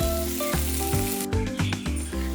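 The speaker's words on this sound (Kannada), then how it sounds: "ಇದೆಲ್ಲ ಇವಾಗ ನೀಟಾಗಿ ಚೆನ್ನಾಗಿ ಫ್ರೈ ಆಗಿದೆ" Spices and ingredients for egg sambar fry in a pan with a continuous, loud, close sizzle. Faint rhythmic stirring runs through it, and no one speaks.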